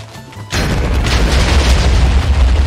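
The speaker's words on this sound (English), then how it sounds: "I'm gonna do a little explosion." A loud, sudden video game explosion bursts in after a brief quiet lead-in, followed by a sustained low rumbling roar that fills the rest of the moment.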